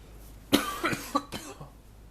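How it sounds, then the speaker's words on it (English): A few harsh coughs in close succession, loud and near, with a short quiet gap and a softer trailing cough, no talking. "Sorry if I'm coughing."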